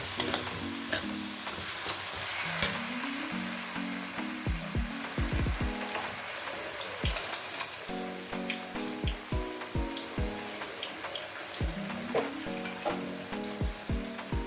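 Taro and fish head frying in a pan, a steady wet sizzle with repeated stirring clatters and scrapes of a utensil against the pan, close and continuous, with no talking.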